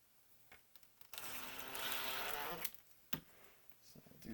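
A power driver sets screws into a virtual pinball cabinet during an SSF kit install, with a steady whirring burst lasting over a second, followed by a couple of short clicks and handling knocks.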